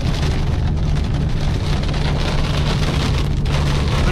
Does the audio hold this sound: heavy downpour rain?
yes